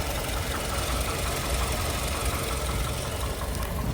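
A Toyota Camry's 2.4-litre engine running at a used-car market, a steady, dense, loud mechanical drone with a knocking texture and no pauses throughout.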